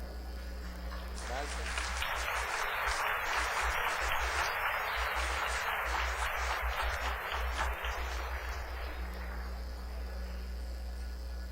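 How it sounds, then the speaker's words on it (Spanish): Audience applause after a talk at a panel session, a dense burst of clapping that swells in and fades out over about eight seconds, fairly faint and set against a low steady hum in the room. "muchas gracias por los aplausos"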